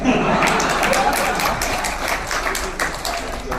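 An audience claps in a dense, steady patter of many hands that fades slightly over a few seconds, with voices and a chuckle mixed in.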